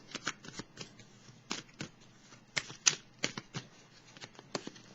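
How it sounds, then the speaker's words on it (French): Tarot cards shuffled and drawn from a deck, a quick series of crisp, papery riffles and flicks, close and fairly quiet, with no talking. "Je vais piger une carte."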